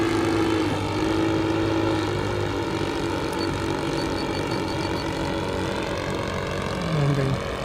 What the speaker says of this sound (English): It definitely was a touch and go here